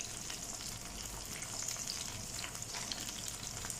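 Gola kababs frying in a pan, a steady close sizzle of oil and spatter running unbroken throughout with no voices.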